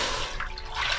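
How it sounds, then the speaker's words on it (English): Water poured into a pot on the stove while making churros, a continuous rushing splash filling the pot, close and steady for about a second with no talking. "we're going to start putting the water"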